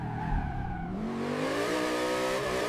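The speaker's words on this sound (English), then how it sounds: "You are flying down the coastal highway, the engine screaming under your foot." A car engine screams at full throttle on a coastal highway, a loud, steady roar whose pitch climbs smoothly as it revs higher, with no voices over it.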